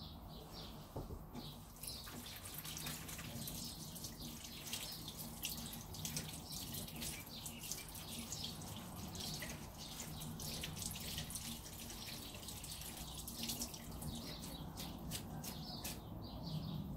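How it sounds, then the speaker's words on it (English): Water runs steadily from a sink tap over hands being washed after acrylic paint pouring, a continuous close splashing wash with faint bird chirps in the background. "Wash hands."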